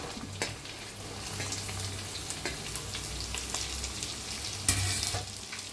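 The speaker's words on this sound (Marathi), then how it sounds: "छान मिक्स करून भाजून घ्यायचं कांद्याला मी" Chopped onion fries in a pan and gets mixed, a continuous crackling sizzle with scattered clicks and scrapes of the spoon against the metal, near and without voices.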